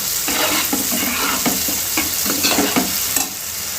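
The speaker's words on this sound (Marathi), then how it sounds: "शेव सुद्धा आपण चांगली तेलामध्ये फ्राय करून घेऊया" Vermicelli fried in oil for upma while being stirred, a loud continuous sizzle broken by repeated scraping strokes of the spoon across the pan at a steady rhythm.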